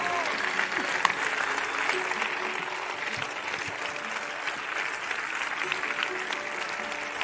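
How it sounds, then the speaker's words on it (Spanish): Sustained applause from an audience at the Extremadura Medals gala, 2022, dense clapping holding steady throughout, with a few faint voices under it. "que se note el aplauso más fuerte"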